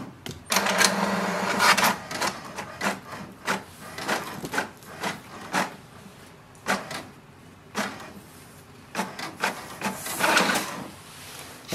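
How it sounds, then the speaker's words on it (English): An HP DeskJet 2752e inkjet printer prints a page, producing a close series of clattering mechanical bursts, clicks and whirring feed pulses in an irregular rhythm, with no talking. "And now we have to press the information button once and again it will print a page."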